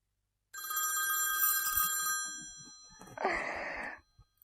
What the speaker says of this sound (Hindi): आवाज ना निकले तेरी, अब्बा जी का फोन है।